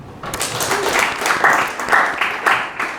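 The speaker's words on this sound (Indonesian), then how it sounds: "Tepuk tangan semua." Audience applause at a seminar on AI-driven content creation for information systems students, a crowd clapping steadily for about three seconds, moderately loud, with a few louder claps standing out.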